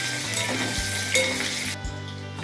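Loud continuous sizzling of spices and potatoes frying in hot oil, with occasional stirring clinks and a low hum underneath.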